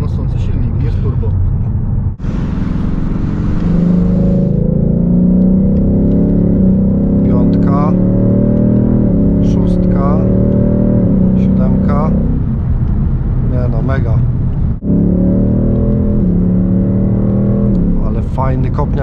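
A 2020 Ford Mustang GT with a naturally aspirated 5.0 V8 pulls in sixth gear, a steady low engine drone heard from inside the cabin beneath someone talking throughout.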